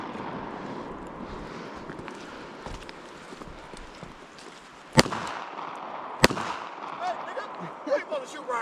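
Two sharp, loud gunshots crack out about a second apart, standing above a quiet outdoor background of shuffling and faint voices.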